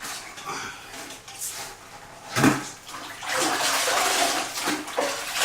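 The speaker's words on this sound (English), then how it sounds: "And then I'll wring it out a couple of times." Wet tile sponge wrung out by hand over a water bucket during a shower tile job, with water splashing and pouring into the bucket in a few bursts, loudest in a long gush near the end.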